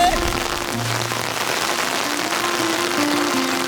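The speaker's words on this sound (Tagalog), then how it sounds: "Umuulan na naman." Heavy rain falling outdoors, a dense, steady hiss of drops hitting surfaces, loud and continuous, with faint tonal sounds in the background.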